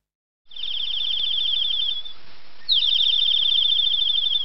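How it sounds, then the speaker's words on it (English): Fast, piercing trills of a calling bird in two bursts separated by a short gap, loud and steady over a faint background hiss, with no voices. "Bird."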